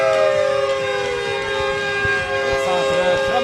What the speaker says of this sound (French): il y a la sirène à Maxime là, qui est juste à côté de nous